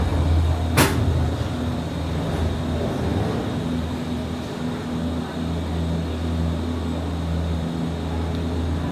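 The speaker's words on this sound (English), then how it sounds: "Doors close." Disney Skyliner gondola pod doors closing, a single sharp clunk near the start followed by a steady low mechanical hum of the cabin and station.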